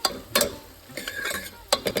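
A utensil scrapes and clinks in a frying pan, stirring spices for okra sambar in short bursts, with quiet sizzling between strokes, close and fairly soft.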